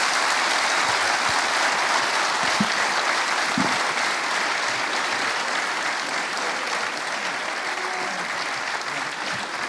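Sustained audience applause at a conference after a round-table discussion, loud and even for the whole stretch, with faint voices underneath.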